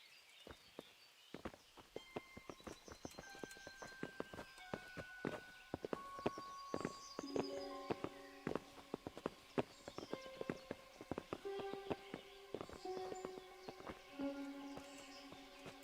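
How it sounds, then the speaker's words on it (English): Horses walk in Kingdom Come: Deliverance, hooves clip-clopping in a steady irregular patter alongside shifting tonal music, fairly quiet throughout. "Bring the horses."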